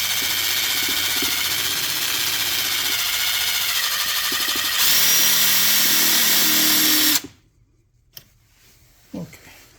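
Power drill boring into a broken engine oil dipstick, a loud steady motorized whine with grinding metal for about seven seconds, then stopping abruptly, followed by near silence with a couple of brief clicks.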